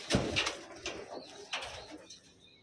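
Taiwan pigeons coo softly in a loft, a few low throaty calls, with faint shuffling and a quiet background.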